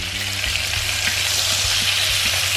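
Steady, loud sizzling and crackling of Salisbury steaks frying in butter in a pan over medium heat, continuous broadband hiss with faint low hum underneath, no voices.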